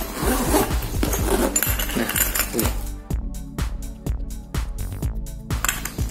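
Zipper being pulled closed on a laptop backpack fitted with a combination lock, a run of quick rasping zips and small metallic clinks, close and crisp, with no talk.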